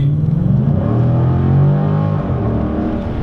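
A 2015 Dodge Challenger Scat Pack accelerates hard, its exhaust giving a loud, steady, close-up roar that swells slightly midway and holds throughout, with no voices over it.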